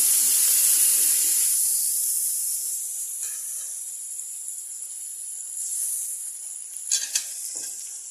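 Ingredients sizzling in a wide hot pan, a steady bright hiss that is loud at first and gradually settles, with a few faint clinks near the end and no talking.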